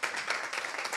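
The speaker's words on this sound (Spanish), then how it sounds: "Un aplauso para ustedes, un aplauso para Mohamed, para Nadia y para Vivi." Audience applause at the close of a literary panel on contemporary Palestinian literature, a brief, moderately loud burst of many hands clapping together in a hall.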